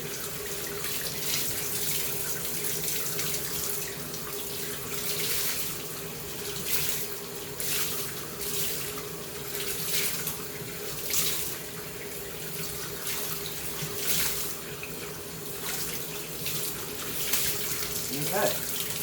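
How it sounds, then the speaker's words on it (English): A Bissell PowerForce Compact vacuum filter is rinsed under a running sink tap until the water runs clear, with a steady close splash that swells in bursts as the filter is squeezed and shifted. "squeeze it out until the water runs entirely clear."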